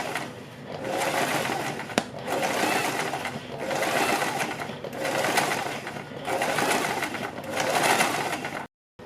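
Sewing machine stitching along a kurti neckline right beside the buckram interfacing, running in steady bursts of mechanical whirring with brief pauses between passes, close and clear before a sudden stop.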